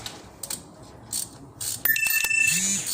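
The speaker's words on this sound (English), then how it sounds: "we got the bolts here loosened for the caliper" Bolts loosened on the front brake caliper of a 2017 Dodge 2500 heavy-duty Cummins turbo diesel: faint clicks at first, then a close, loud run of ratcheting clicks and metallic clatter over the last second.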